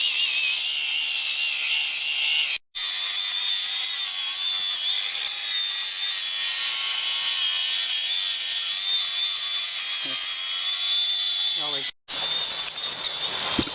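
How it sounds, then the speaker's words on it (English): An angle grinder scours spray paint vandalism off a Native American rock, giving a loud, continuous high-pitched grinding hiss that cuts out briefly twice. "That angle grinder works"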